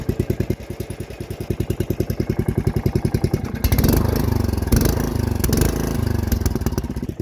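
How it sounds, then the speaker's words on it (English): Small Briggs and Stratton engine cranking with a rapid rhythmic chugging, then catching and running at a loud, steady, rough roar close by. "And now, I'll crank it over."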